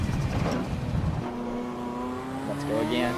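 Volvo S60R in a driving simulator game, engine revving and climbing through gears with rising harmonic tones and a turbo-like whine, close and steady, with someone talking over parts of it.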